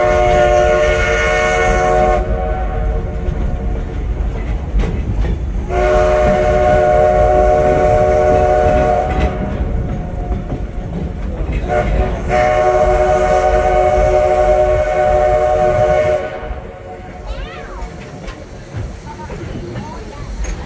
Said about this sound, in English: This meadow does an amazing thing with that whistle, and I think it's one of the most beautiful echoes I've ever heard.